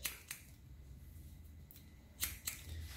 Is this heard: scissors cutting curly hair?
yes